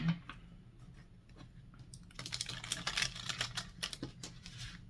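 Quiet, rapid riffling clicks of tarot cards being shuffled, starting softly and then quickening into a dense flurry of soft taps.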